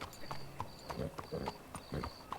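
Horse hooves clip-clopping in Red Dead Redemption 2 as a rider moves through a town's neighborhoods, a steady rhythmic trot of sharp, close hoof strikes with faint background ambience.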